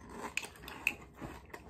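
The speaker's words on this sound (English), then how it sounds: "I know you all been missing that crunch." Special K Red Berries cereal is chewed up close, giving a few sharp, crisp crunches spaced through a short, quiet stretch.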